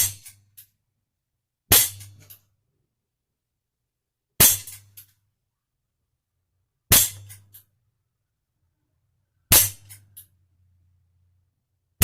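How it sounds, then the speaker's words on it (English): A Umarex Walther PPQ CO2 air pistol fires pellets, five sharp loud cracks spaced a couple of seconds apart, each followed by a short metallic rattle, with near silence between shots. "which I'm going to put 8 shots in there now."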